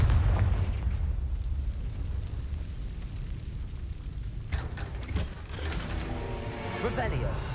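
A Confringo spell explosion in Hogwarts Legacy, a low rumbling blast mixed with mechanical clatter and game effects, with a voice speaking over it.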